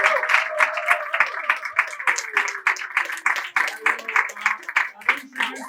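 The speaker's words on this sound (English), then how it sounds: "Let's give them a round of applause" An audience at an advanced-class student improv showcase claps for the performers, a crowd of rapid, uneven hand claps running throughout while a voice speaks over them.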